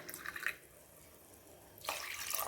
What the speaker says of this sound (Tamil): ரெண்டரை டம்ளர் தண்ணி ஊற்றிருக்கேன்ப்பா